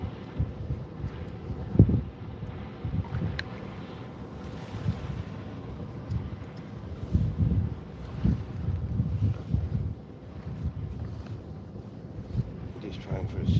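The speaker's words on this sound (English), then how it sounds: "it's a little breezy, a little chilly," Breezy, slightly chilly wind outdoors during a fishing outing buffets the microphone in uneven, rumbling gusts, with water movement faintly underneath and no talk.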